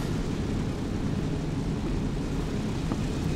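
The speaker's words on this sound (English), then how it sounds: "This is an intense loading screen, especially for someone with a fear of flying and planes." Airplane droning overhead in a battle royale video game loading screen, a steady low engine rumble that stays even and continuous throughout, no voices.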